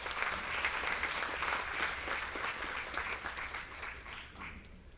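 A conference audience at a maritime industry summit applauds, a dense, steady wash of clapping that fills the whole stretch and fades slightly toward the end.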